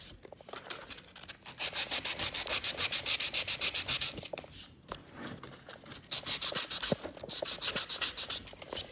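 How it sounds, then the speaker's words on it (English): Sandpaper rubbing back and forth along the spine of a rustic handmade craft book, in quick rhythmic strokes that come in two long bursts separated by a brief pause, close and fairly loud with no voice. "Making sure you don't sand off too much right here in the middle where you're gonna put your stamps."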